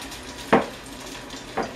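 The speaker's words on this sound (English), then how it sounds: "You can hear it sizzle, can't you?" Hunks of baccala (salt cod) fry in hot vegetable oil, giving a steady low sizzle broken by two brief clattering splashes as pieces shift in the pan.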